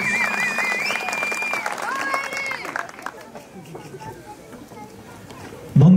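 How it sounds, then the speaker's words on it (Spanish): At a quinceañera party, an audience applauds and cheers amid crowd chatter and music, the clapping dense at first and then thinning out, ending in a sudden loud thump. "Esos aplausos, señores, damas y caballeros."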